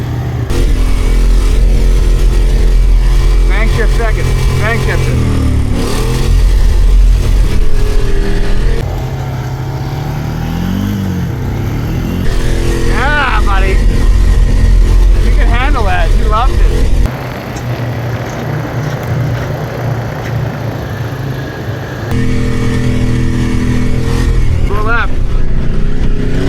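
A 1996 Ford F-350 crew cab truck's engine revving and labouring while driving in snow, loud and close, with drops and surges as it shifts, and people talking over the engine throughout.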